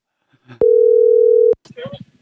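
A steady electronic telephone tone holds for about a second during an outgoing call, loud and close, with people talking just before and after it.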